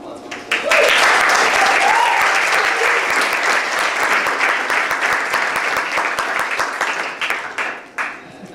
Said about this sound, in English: So let's get a round of applause.